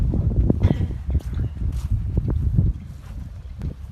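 Gusty wind buffeting the microphone with low rumbling bursts, rising and easing unevenly, with faint rustling underneath, outdoors at a veterans cemetery in Rhode Island.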